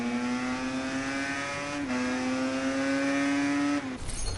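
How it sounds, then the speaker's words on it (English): A motorcycle engine in the racing video game Ride 3 holds a steady, loud high-pitched drone, with a brief shift in pitch midway and a drop near the end. "I will turn the bike engine sound down when I finish this race, Simone."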